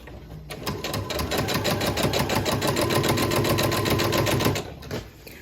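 A sewing machine runs steadily for about four seconds while stitching fabric for a Christmas tree skirt. Its rapid, even needle clatter sits close and loud, then stops abruptly, with no talking.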